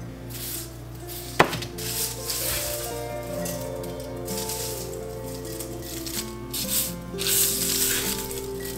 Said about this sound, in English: checking if I squeeze it, if it is crispy. And it's sounding crispy to me